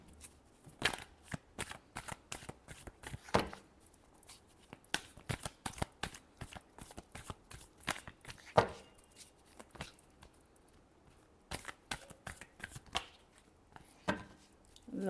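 Tarot cards are shuffled by hand in repeated quick riffling bursts, close and crisp, separated by brief pauses.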